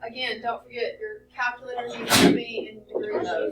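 A single sharp sneeze bursts out midway through, loud and close, between stretches of a person talking.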